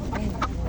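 Chickens cluck in short bursts at a busy poultry market in Andijan, two or three close, sharp calls over a crowded low background murmur.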